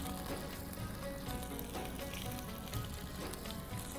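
Vegetables sizzle steadily in a hot pan as they are sautéed for sweet and sour pasta, a continuous close frying hiss with no break.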